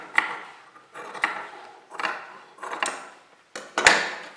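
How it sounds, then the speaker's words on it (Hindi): Canvas fabric being cut with scissors for a three-panel kurti neckline, five distinct crisp snipping strokes in a steady rhythm, close and clear with no voices. "अब हम इसके बराबर बराबर इस कैनवास की कटिंग कर लेंगे।"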